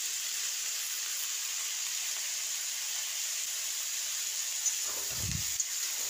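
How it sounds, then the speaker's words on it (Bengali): Tea flowers fry in a pan with a steady, faint sizzle, and a brief scraping clatter near the end as they are stirred. "তো এখন আমি এগুলো কিছুক্ষণ এভাবে নেড়ে চেড়ে ভেজে নিব।"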